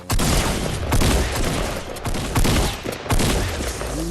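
Rapid weapon fire in Fortnite Battle Royale, with loud repeated bursts of shots and booming impacts that crowd the whole stretch with little pause.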